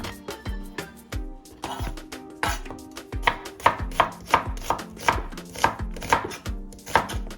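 A knife chops through an onion on a flat cutting board, close and crisp, with a steady run of sharp knocks that quicken into even, rhythmic strokes, no talking over them.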